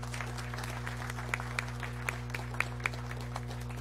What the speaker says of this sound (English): I think we should just give her a round of applause